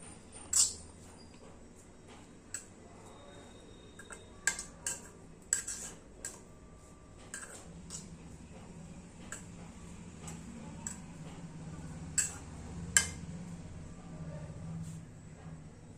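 A spoon clinks and taps against a bowl while dosa batter is stirred with pepper powder, giving scattered light ticks and clacks over a quiet, faint background. Close and soft, with no speech.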